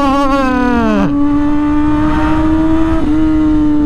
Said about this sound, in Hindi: ये देखो सुनो पटाखे मारते ना शिफ्ट करते हुए